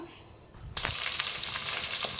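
Chopped onions and green chillies hit hot oil in a fish curry pot on a low flame, breaking into a sudden bright, continuous sizzle that stays loud and close.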